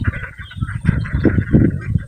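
Ducks being herded home on a rural farm quack and chatter in a busy, overlapping flock, close and continuous.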